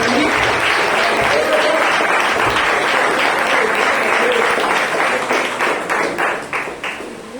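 A church congregation at a Sunday youth service applauds in praise, a loud, full wash of clapping that gradually breaks into separate claps and fades toward the end, with voices faintly underneath.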